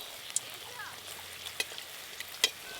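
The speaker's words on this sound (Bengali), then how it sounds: "এবার এক হাতা করে ব্যাটার কোঁড়াতে দিয়ে দেব। এই দেখুন ধীরে ধীরে কিন্তু ভেসে উঠছে ওপরে।" Batter for palm fruit fritters fries in hot oil in a wok, with a steady soft sizzle broken by a few sharp pops.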